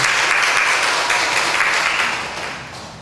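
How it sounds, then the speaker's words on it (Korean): A congregation at a Sunday church service applauds a newly arrived guest: dense, loud clapping from many hands fills the room, then gradually tapers off toward the end. "큰 박수 부탁드립니다"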